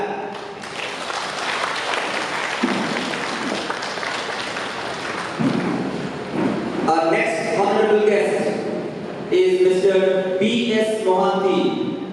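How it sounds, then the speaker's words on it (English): An audience at an education event claps steadily for several seconds, then the applause fades as a speaker talks over it and continues alone. "Hopefully the audience hasn't lost energy to clap"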